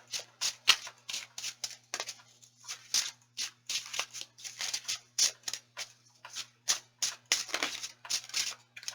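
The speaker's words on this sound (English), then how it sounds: "I'll give it 3 shuffles." Rapid bursts of tarot cards riffling and flicking, repeated in quick clusters with short pauses between, close and crisp with no talking.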